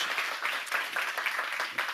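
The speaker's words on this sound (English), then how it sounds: "So again, another huge, huge round of applause for Hila." A lecture-hall audience applauding a hypnosis volunteer: brisk, fairly close clapping from a modest crowd, sustained and uneven over two seconds, with no one talking.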